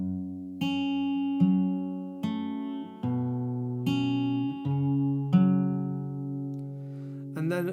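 Acoustic guitar playing bar seven of a tune: a steady run of clear plucked notes and chords, about one attack per second, close and alone with no talking.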